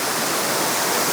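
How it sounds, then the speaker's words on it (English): Jeans Run waterfall in Lehigh Gorge park, a tall cascade about 30 feet high, gives off a steady, dense roar of rushing water with no breaks, heard up close. "I'm just looking at this glorious one, and then I've got this 30-foot one below me."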